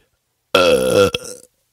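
A single loud, drawn-out wet belch, close and alone, ending in a short gurgle.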